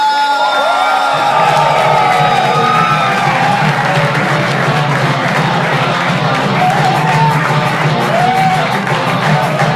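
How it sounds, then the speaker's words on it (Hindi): A crowd at a stand-up comedy show claps, cheers and whoops as performers are welcomed to the stage, a loud and sustained roar that fills the whole stretch. "अगर आप लोग जोर से तालियां बजाओ तो उनको स्टेज पे बुलाना चाहता हूँ।"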